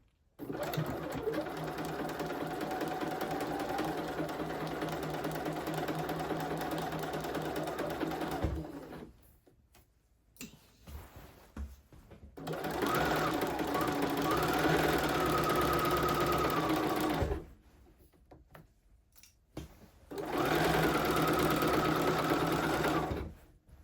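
A sewing machine stitches the side seam of a blazer in three long, steady runs of rapid mechanical whirring, separated by brief pauses.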